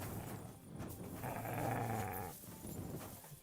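A dog growls low and steady in the medieval RPG Kingdom Come: Deliverance 2, a rumbling snarl that swells for about a second in the middle amid game ambience, with no one talking over it.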